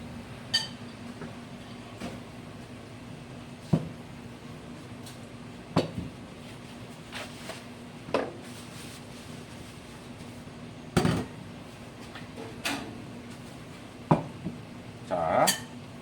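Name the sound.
tossing chilled jellyfish salad with dressing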